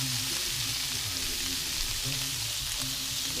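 Trini-style saltfish sautéing in a pan gives a steady, close hiss of frying and sizzling oil that runs without a break from start to finish, with no voices.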